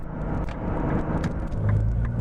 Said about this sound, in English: first thoughts of just driving the car, it feels like a machine right away.